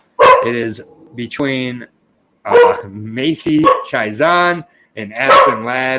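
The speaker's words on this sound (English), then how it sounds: "Apologize for the dog barking" A dog barks in the background, partly masked while someone talks steadily over it.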